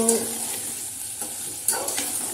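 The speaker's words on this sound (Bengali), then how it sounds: "ডিম আর পেঁয়াজগুলো ভেজে নিচ্ছি।" Boiled eggs and onions fry in a pan with a steady broadband sizzle, punctuated by a few sharp stirring scrapes and clicks over roughly two seconds; no one speaks.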